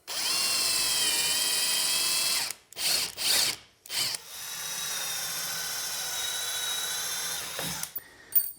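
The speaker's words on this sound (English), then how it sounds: "we have to do what we call a dimpler bit or a pre-drill or a countersink right where the shim is" A power drill bores a countersink pilot hole into an MDF door jamb behind the shim, whirring loud and close in a long run, then several short stop-start bursts, then another sustained spin before winding down.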